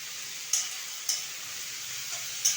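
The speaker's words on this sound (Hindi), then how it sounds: "मेरी बरबट्टी अच्छे से फ्राई हो गई है।" Long beans (barbatti) fry in a pan with a steady, soft sizzling hiss, broken by three or four light clicks from stirring, with no voices.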